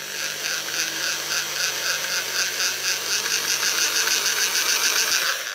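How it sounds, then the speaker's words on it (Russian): Electric drill boring into a homemade wooden perch lure, a steady high whining drone with continuous buzzing held at even loudness throughout, no talking. "Итак, сверлим."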